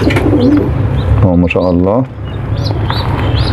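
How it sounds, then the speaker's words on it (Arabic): Young homing pigeon squabs coo nearby in a short, throaty rolling burst over steady background noise, followed by someone speaking briefly. "في حمام زغاليل على وشك انها تطير"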